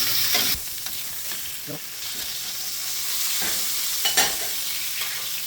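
Beef frying with garlic in a frying pan gives a steady bright sizzle with hissing steam, broken by a few louder stirring scrapes and spatters; no one speaks.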